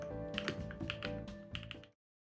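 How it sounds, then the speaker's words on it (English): Mechanical keyboard on a tenkeyboardless Transition Lite build, a quick run of crisp clacking keystrokes with a ringing metallic ping from the spacebar, close and isolated, cutting off abruptly. "The spacebar was pinging really badly."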